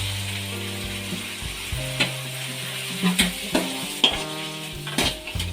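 Onions and chopped tomatoes fry in a pan for a drumstick fry, a low sizzle under repeated scraping and clinking of a spoon against the metal, close and steady with no voices.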